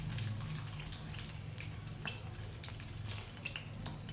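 Whole cloves and a cinnamon stick fry in hot oil in a pan for Hyderabadi-style green chicken, giving a steady, fairly quiet sizzle with light crackles and pops and no voices.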